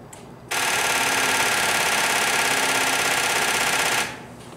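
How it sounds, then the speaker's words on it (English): Loud, continuous cranking of the engine on a Genie lift driven by a NOCO GB70 jump starter. It begins abruptly after a short quiet, holds a rapid, even churn for about three and a half seconds, then cuts off. "I'm gonna hit the starter, see what happens."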